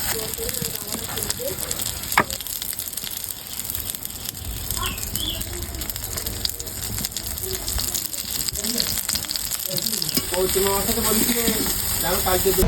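Crab fritters spiced with chilli powder, turmeric, salt, onion and garlic frying in hot oil, a constant dense sizzle and crackle that runs the whole time alongside faint background noises.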